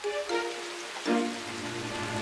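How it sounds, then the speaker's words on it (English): Rain falling in a kids' animation, a steady wash of drops on surfaces under soft musical tones, moderately loud and continuous, with no talking. "Oh, it's raining."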